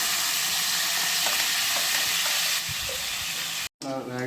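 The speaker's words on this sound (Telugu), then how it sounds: "ఆయిల్ కొంచెం హీట్ అయ్యాక మనం ఉల్లిపాయలు పచ్చిమిర్చి వేసేసుకోవచ్చు" Onions and green chillies sizzling in hot oil for chicken curry, a dense, loud, continuous fry hiss with faint stirring knocks, briefly cut near the end before a voice speaks.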